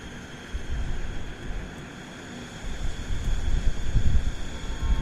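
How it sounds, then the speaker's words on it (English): Steady wind blows outdoors, a broad rumbling rush that gusts louder toward the end, with no voices. "I know it's real windy out here"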